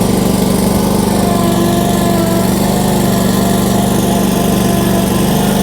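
Kioti ZXS stand-on mower driving around a lot, its engine giving a steady, loud, continuous drone with a low hum and hissing high end, constant throughout with no talk.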